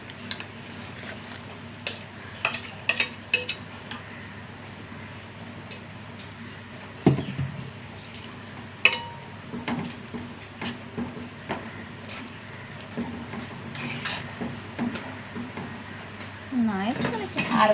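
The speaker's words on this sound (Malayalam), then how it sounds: "ഇനി നമ്മുടെ അരപ്പ് ഒഴിച്ചു കൊടുക്കാം." Ground coconut paste is poured into a simmering tamarind curry in a pot and stirred, with scattered clinks and scrapes of a spoon against the vessel, moderately close and fairly quiet over low background hum.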